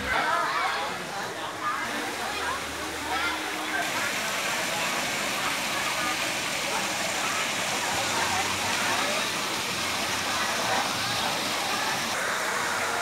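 Water flows steadily in the clear stream at Suoi Tranh on Phu Quoc island, a continuous rushing wash at moderate distance, with someone speaking over it throughout.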